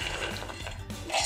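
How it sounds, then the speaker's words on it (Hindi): Peanuts rattle and clatter into a mixer jar in a short continuous pour, close and fairly loud, with a final louder rush at the end. "इसे अब हम मिक्सर के जार में डालेंगे।"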